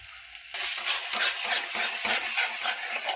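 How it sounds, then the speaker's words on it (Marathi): Black masala with red chili powder roasting in hot oil in a pan, a sudden loud sizzle that continues steadily with rhythmic scraping of a spoon stirring, close by and with no talk. "चांगलं भाजायचं तेलात."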